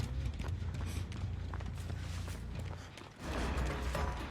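Running footsteps in Dead by Daylight, a rapid patter of steps with ambient game noise, continuing steadily and then swelling louder near the end.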